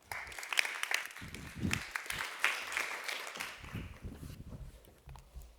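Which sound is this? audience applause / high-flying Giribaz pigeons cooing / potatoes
audience applause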